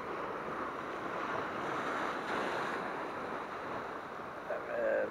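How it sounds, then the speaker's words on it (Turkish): Gentle sea waves wash against a rocky shore near Mersin while fishing, a steady broadband surf wash with wind noise, continuous and fairly close, swelling slightly near the end. "Hafif dalga var arkadaşlar. Arasına dalga yapıyor."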